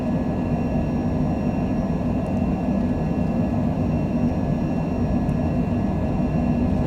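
Airliner engines roaring at takeoff power during the takeoff roll in heavy rain at Charleston, West Virginia, a steady loud broadband rumble heard from inside throughout.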